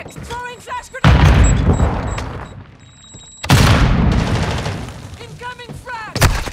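Gunfire and grenade blasts in a Modern Warfare 2 Domination match: loud bursts of shots and booming explosions crowd the clip in two heavy stretches, with brief quieter gaps and clicking game sounds between them.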